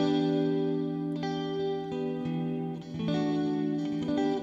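An instrument played through a subtle UVI Sparkverb reverb with the ducker engaged on iOS: sustained, layered tones with a soft wash of tail behind a few distinct note attacks, steady and fairly loud throughout.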